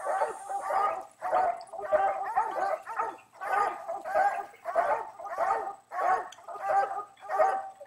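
Young coonhounds barking at a tree during coon hunting training, a continuous run of loud, rough, bawling barks in quick succession, close by and with no talk.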